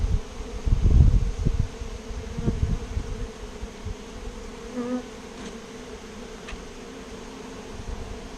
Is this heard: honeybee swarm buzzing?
yes